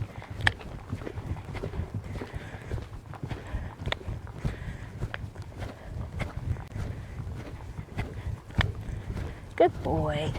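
Hoofbeats of an off-the-track Thoroughbred cantering in an arena: rhythmic muffled thuds repeating steadily, with a rider's voice speaking over them.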